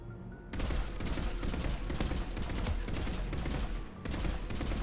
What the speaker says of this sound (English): It is a burst rifle. And it does require ammo.